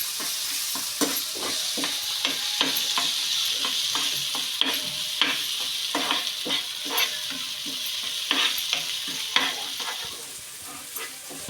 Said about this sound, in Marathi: मिक्स करून घेऊया, व्यवस्थित परतून घेऊया.